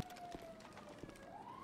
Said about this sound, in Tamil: இப்ப சைரன் கார் சவுண்ட் கேடுச்சுடா